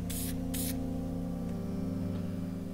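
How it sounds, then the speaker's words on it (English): Two short bursts of Deft Clearwood gloss spray lacquer hiss from an aerosol can over a wooden car stereo knob, each about a fifth of a second, fairly close over a steady low shop hum. "This is a Deft Clearwood Finish, a spray lacquer that's gloss"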